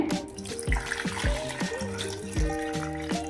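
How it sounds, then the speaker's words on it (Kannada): Water is poured into a mixer jar holding cream, giving a steady liquid splash and gurgle with a few quick rising glugs as the jar fills, close by and moderately quiet. "ಇಷ್ಟು ನೀರು ಹಾಕ್ಕೊಂಡಿದ್ದೀನಿ"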